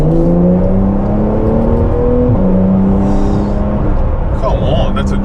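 A Porsche 911 accelerates to overtake another car on the road, its engine note rising steadily and loud from inside the cabin, with a brief shift midway and a person talking over it.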